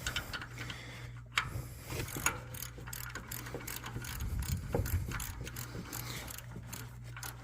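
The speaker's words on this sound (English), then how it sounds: "if you just get in there with a hand wrench and just pull it until it's good and really good and tight" Hand ratchet wrench tightening an exhaust manifold clamp from a repair kit, rapid close clicking of the pawl in repeated strokes, fairly quiet with no talking.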